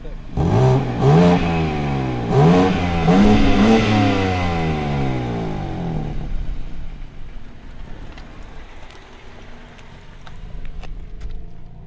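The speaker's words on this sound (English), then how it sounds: "that rev of the exhaust you give." A 2021 BMW M4's exhaust revs hard in a series of rising and falling blips, loud and close, then drops away to quieter ambient noise with faint clicks.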